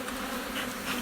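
Honeybees buzz steadily inside an open beehive during a hive inspection, a close, continuous drone with slight swells in intensity and no voices.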